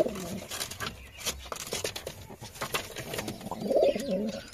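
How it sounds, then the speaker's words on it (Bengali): Jiriya pigeons fight and coo in a loft, soft repeated throaty coos mixed with wing flaps and scuffling, close and fairly loud, rising into a stronger burst of cooing near the end. "তো ফের মারপিট শুরু করেছে, খুবই মারপিট শুরু করেছে। আমাদের জিরিয়া কত মারছে দেখো"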